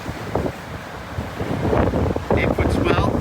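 Storm surge waves crash over the Scituate seawall while heavy wind buffets the microphone, a rough, roaring wash of surf that swells louder toward the end, with a voice talking underneath.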